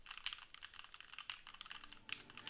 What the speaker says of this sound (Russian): Вот так он слышит клавиатуру, когда вы говорите, и вот так вот в тишине.